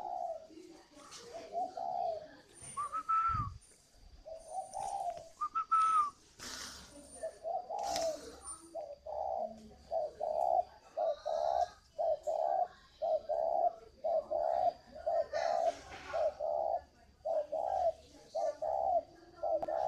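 Spotted doves coo repeatedly at a Vietnamese breeding farm, close and clear, in a steady run of rhythmic two-part calls with brief pauses, mixed with faint chirps and a low hum in the background.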